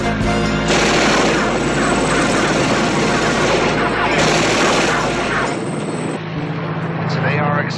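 Rapid cannon fire from a Bearcat helicopter's 20-millimeter guns in an aerial chase, a loud continuous dense burst of shots over roaring rotor and engine noise, with short pauses and voices mixed in.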